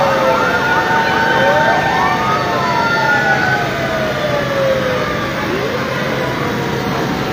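Several fire engine sirens wail and sweep over one another, loud and continuous, as trucks arrive at a fifth-floor building fire on a crowded street in Pinagbuhatan, Pasig City.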